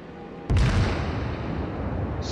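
A cruiser is destroyed in a naval battle game: a sudden heavy blast hits, then a broad rumbling roar of debris and fire lingers and slowly fades.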